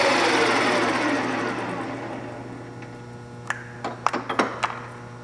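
Both spindles of a Deckel FP2 milling machine run at 1000 RPM, a loud steady mechanical whir that winds down over a few seconds, followed by several sharp clicks and knocks.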